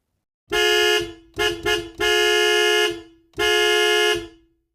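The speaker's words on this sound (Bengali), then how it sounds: "একটা লরি এসে দাঁড়িয়েছে হর্ন দিচ্ছে" A loud lorry horn honks four times close by: one long blast, two quick toots, another long blast, a pause, then a final long honk.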